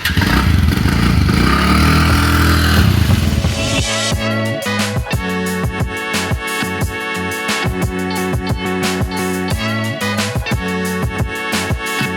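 A TVS Ntorq 125 scooter engine runs steadily with a rapid, buzzing putter, loud and close, after a brief rush of wind and road noise at the start.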